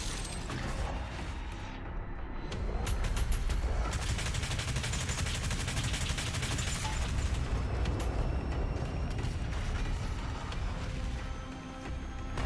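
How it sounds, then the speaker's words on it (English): Micro missiles fire in rapid bursts in Doom Eternal, a dense crackling barrage of small explosions and mechanical clatter layered over constant loud combat noise, continuing without pause. "This is exactly what micro missiles was made for."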